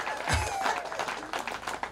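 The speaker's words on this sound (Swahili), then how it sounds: "Tumpigie makofi." A crowd claps and applauds steadily throughout, a dense wash of hand claps filling a large room at a church gathering.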